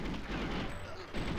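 Gunfire in GoldenEye 007 on the Caverns level, played on Xbox One: a dense burst of shots that runs steadily through the moment and swells again near the end, with no talking.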